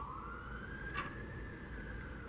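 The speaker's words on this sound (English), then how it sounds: "for the past 5 minutes, there have been police sirens just circling around my house." A police siren wails steadily outside a house, a continuous rising and falling tone heard from a moderate distance over constant background noise.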